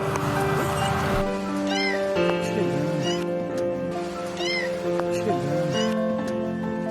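Thin, high kitten mews repeat several times over a steady background of downpour rain and murmuring voices.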